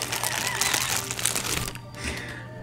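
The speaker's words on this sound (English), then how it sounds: "I'm gonna open it with my little blade here quick" A package being cut open with a small blade, heard as close crinkling and scratchy tearing of packaging that fades partway through.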